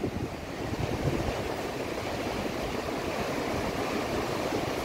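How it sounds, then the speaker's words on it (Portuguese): Rough, high sea surf at Gravatá beach in Navegantes rushes as a continuous broad wash of breaking waves, mixed with wind buffeting the microphone, steady and fairly loud with no voices. "Maré bem agitada, bem alta também"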